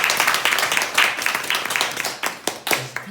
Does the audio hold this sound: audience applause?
yes